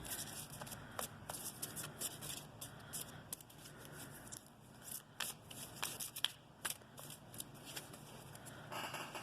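Quiet, repeated riffling of playing cards being shuffled, crisp bursts of flapping and snapping at an uneven pace, close by.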